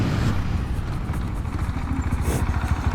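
A Husqvarna Svartpilen 701 motorcycle brakes hard from 50 km/h, its engine note rumbling low and steady close to the rider, the pitch shifting slightly as the bike slows, with no voices.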